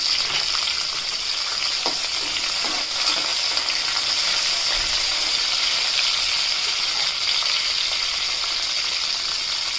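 About ten peeled garlic cloves fry in hot oil in a pan for a tomato and coriander chutney, giving a steady, close sizzle throughout with a few faint stirring clicks and no talking.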